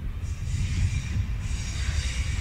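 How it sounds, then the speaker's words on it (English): Train cars clonk along a seaside pier in Portsmouth, England, a steady low rumble with faint hiss that continues throughout, fairly close and loud with no talking. "Just listen to those trains as they clonk along the pier here."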